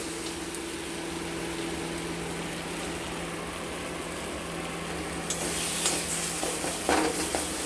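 Cumin spice paste, dry ground cumin loosened with a splash of water, sautéed and stirred in a kadai, giving a steady close sizzle with scraping stirs that grow a little louder and clatter near the end.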